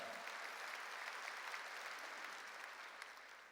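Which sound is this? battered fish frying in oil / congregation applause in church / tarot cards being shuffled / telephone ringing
congregation applause in church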